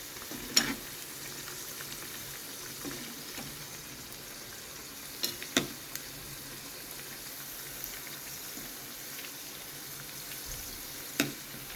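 Sabudana vada deep-fry in hot oil, a quiet continuous bubbling sizzle broken by a few sharp clicks and taps of utensils, with no voices.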